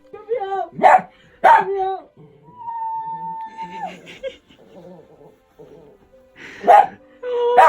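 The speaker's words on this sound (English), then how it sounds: "All of your different barks." A dog barking and yipping up close indoors, a few sharp barks at the start, whining and soft whimpers in between, then another burst of barks near the end.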